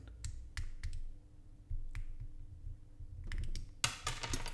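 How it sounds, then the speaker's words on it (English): LEGO bricks snap together while building a mantis body from an insect collection set, sharp close clicks in short irregular bursts, ending in a dense cluster of plastic clatter, with no talking. "I'm not sure if you guys can hear the clicking"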